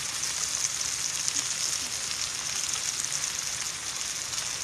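Steak sizzling in a hot pan, a steady dense hiss of fat frying with faint crackles running evenly throughout, close and continuous with no talking.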